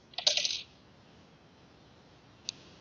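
Scissors snip through knitting yarn in a quick, close cluster of sharp metallic clicks, followed by a single faint click a couple of seconds later in an otherwise quiet room.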